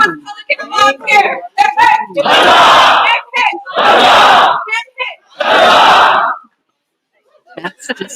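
Crowd cheers in bursts at a May Crown evening court as the newest Pelican is honored; three loud sustained roars of voices follow a few spoken words, then fade to silence with faint talk at the end.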